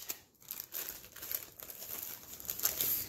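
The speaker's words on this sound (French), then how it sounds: "Et on va ouvrir le sac." Someone opens a plastic bag holding diamond painting supplies, with close, loud crinkling and crumpling in bursts plus a brief tearing rustle.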